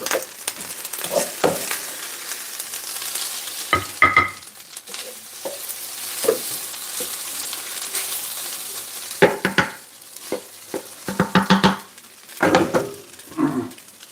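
Food sizzles and fries in a pan while a utensil stirs and scrapes against it, with irregular clatters and knocks breaking through the steady hiss of frying.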